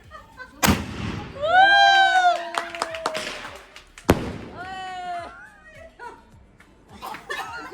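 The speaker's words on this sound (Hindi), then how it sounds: "अभी स्काई शॉट देखेंगे। पीछे हो जाओ। ऊपर जाएगा।" A Diwali sky shot firework goes off outdoors: two sharp launch bangs, each followed by rising whistling, crackle and pops, with people talking and shouting nearby.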